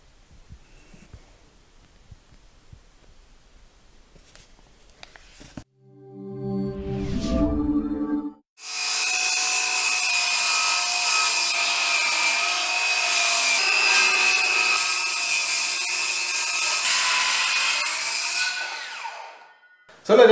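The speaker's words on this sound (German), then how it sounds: "nach der Lieblingsbeschäftigung von jedem Hobbybastler oder auch Schreiner, dem lieben Schleifen" Power sander working a wooden tabletop in a hobby workshop, a steady loud whirring grind running for about ten seconds after brief handling knocks and a short rising motor burst.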